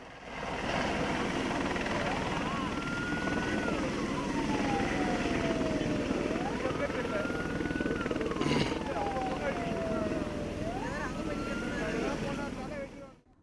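Helicopter air ambulance at a demonstration on the Loyola College ground in Nungambakkam, Chennai: a loud, steady rotor roar throughout, with a siren wailing up and down in slow repeating sweeps over it.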